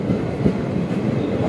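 Utkal Express, running more than four hours late, pulls out of Muzaffarnagar station in a steady, loud rumble of rolling wagons with faint clickety-clack, continuous and close throughout.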